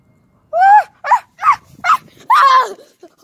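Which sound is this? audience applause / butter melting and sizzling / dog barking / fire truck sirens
dog barking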